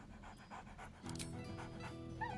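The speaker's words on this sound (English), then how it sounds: "Scratch barks merrily in something like agreement." A dog in the video game Baldur's Gate 3 pants steadily and close up, with a short whimpering yip mixed in, heard alone with no talk.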